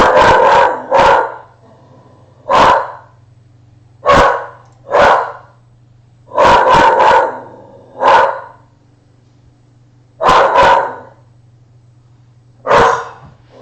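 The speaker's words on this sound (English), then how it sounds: "Sorry, my dog's going crazy." A dog barks loudly and close by, about a dozen sharp barks in single shots and quick doubles and triples, with short pauses and a low steady hum behind them.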